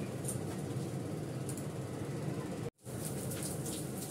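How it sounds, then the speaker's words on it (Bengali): Fish frying in a pan, a dense close sizzle and crackle of hot oil that cuts out for a moment and then resumes. "মাছগুলো ভাজবো, মাছগুলো ভাজি।"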